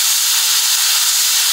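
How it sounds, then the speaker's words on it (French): A Laurastar Lift steam iron releases a steady, loud hiss of fine dry steam, continuous and close, with no talk over it. "Vapeur fine et sèche."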